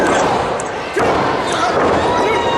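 A wrestler slammed to the mat from a stalling vertical suplex lands with a single heavy thud near the middle, under continuous crowd noise and commentary.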